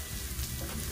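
Garlic fries in hot oil for beef salpicao, a steady close crackling sizzle with no pauses.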